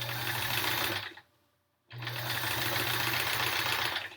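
A sewing machine sews backing onto a Triangle Tango quilt in a loud close whir that stops for a moment and then starts again, running steadily.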